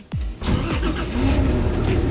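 Cummins 6.7-liter diesel engine of a luxury lounge motorhome starting, a quick cranking sweep catching into a deep rumbling idle that builds slightly, close and loud.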